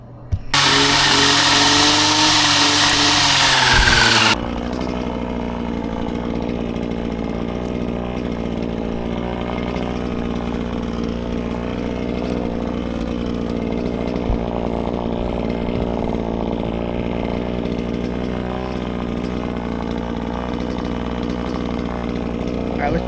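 A weed trimmer converted into a chainsaw, revving hard for a few seconds and then settling into a loud, steady buzzing idle that drones on close by.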